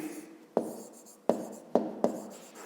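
Pen or marker taps and strokes during a Ukrainian fifth-grade geometry lesson on angles: four sharp, close knocks spaced irregularly, each trailing into a short scratch, with no talk over them.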